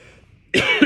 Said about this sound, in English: all of a sudden coughing